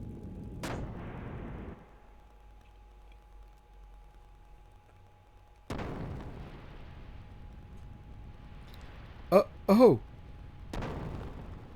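Ship cannons fire in the video game Xenogears, a few heavy booming blasts with rumbling decay separated by quiet gaps, plus a brief spoken exclamation.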